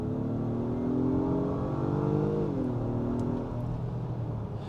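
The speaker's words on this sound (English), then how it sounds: "So one more little exhaust pull or exhaust clip" A 2023 Acura MDX Type S SUV exhaust holds a steady droning note that climbs under throttle and then dips as the revs fall, loud and continuous with no talking.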